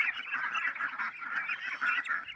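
Ducks, called bebe or itik, calling together in a continuous overlapping chorus of honking quacks, fairly close and steady throughout, with no talking.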